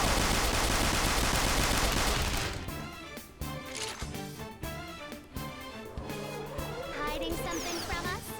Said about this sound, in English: Got machine guns.